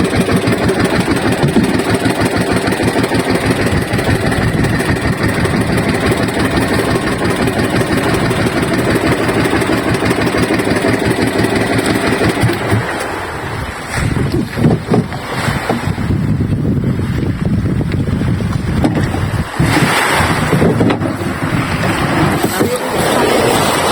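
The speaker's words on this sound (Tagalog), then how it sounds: "ang takbo nitong bangka na 2 sister" A motorboat named 2 Sisters runs on a 19.5 Pro Quip engine, its loud steady drone close and continuous throughout, with wind and water rush layered over it and a slight dip and roughness in the engine note partway through.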